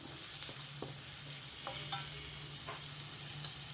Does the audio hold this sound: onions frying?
yes